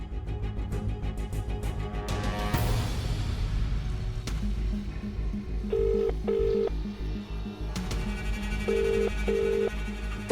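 A phone is dialed and rings unanswered: a rapid run of keypad tones over background music, then repeated pairs of ringback tones with pauses between them, fairly loud and near.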